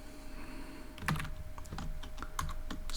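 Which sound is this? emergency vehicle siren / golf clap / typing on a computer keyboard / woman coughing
typing on a computer keyboard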